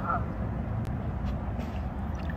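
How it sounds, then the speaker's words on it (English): A live duck honks faintly a few times in a park while a golden retriever holds it in its mouth, the calls buried under loud rumbling wind noise. "When your golden retriever retrieves a live duck from the park."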